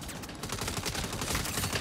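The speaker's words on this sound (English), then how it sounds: "There's a turret that's just wailing on me right now." Saints Row turret gunfire hammers away in a continuous rapid stream of shots, dense and unbroken throughout, at moderate game volume.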